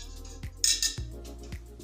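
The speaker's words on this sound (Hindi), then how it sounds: "इसको एक कुकर में रखना है। मैं एक रिंग डाल देती हूँ नीचे।" A metal ring is set into the bottom of a pressure cooker while semolina laddu is being prepared: a few close, bright metallic clinks and a knock in quick succession, with no talking.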